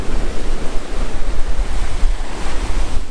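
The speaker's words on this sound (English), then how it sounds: "The waves just keep getting bigger and bigger here." Big storm waves crash and surge continuously in Pattaya, a loud, dense roar of surf with wind buffeting the microphone and no clear gaps between breakers.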